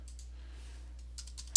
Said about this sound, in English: you can see what a terrible typer I am